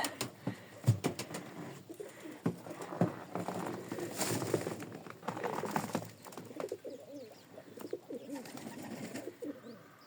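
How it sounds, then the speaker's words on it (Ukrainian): A flock of sparrows gathers in a snowy village yard after poultry feeding, giving a scattered, fairly faint mix of bird calls and chatter that rises and falls over the cold quiet. "А горобці, мабуть, з усього села злетілися."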